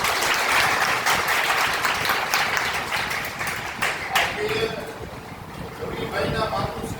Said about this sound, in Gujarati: ત્યારે આપણે સૌ તેમનું તાળીઓથી સ્વાગત કરીએ.